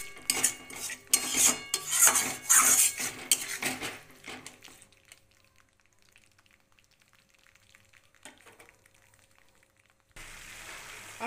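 Ground spices sauté in a pan with a little water while preparing shankar mach curry, with loud scraping and clattering of a spatula against metal early on, then quiet faint sizzling and occasional soft stirring.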